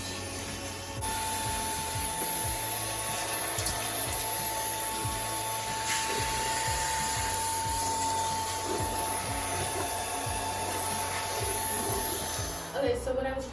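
A NEQUARE S25 cordless vacuum cleaner runs with a corner nozzle in a steady whining hum, with rhythmic bumping and scraping as the nozzle works along the floor and corners before the motor cuts near the end.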